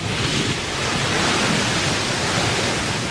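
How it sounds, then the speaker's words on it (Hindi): A tidal bore surges along the Qiantang River in China, a steady, dense roar of rushing water and crashing waves that fills the whole stretch without a break. "इसी दौरान चियांगटांग नदी धरती के सबसे बड़े बोर का निर्माण करती है।"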